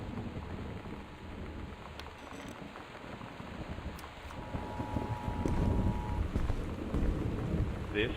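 Heavy, steady rain pours in the video game Gone Home during a storm warning, a dense continuous wash that swells slightly louder toward the end with no talk over it.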